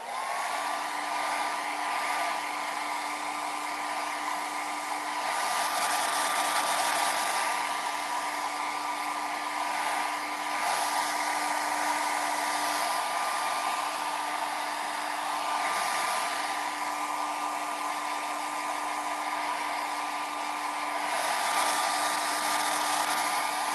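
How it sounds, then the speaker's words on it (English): A hair dryer blows steadily at close range while drying fresh milk paint, a constant whooshing roar with a faint motor whine that runs unbroken throughout. "now I'm going to dry this really quickly"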